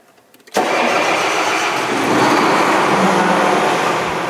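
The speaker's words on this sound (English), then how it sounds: "How something like that can start a tractor?" A tractor engine starts with a battery jump starter, cranking briefly before catching with a sudden loud roar, then settling into a steady, close, heavy idle.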